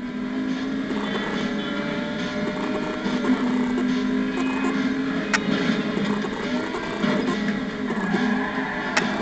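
Sub Zero car engine drones steadily while driving, a continuous mid-pitched hum with wind and road noise blended in, moderately loud and unbroken throughout.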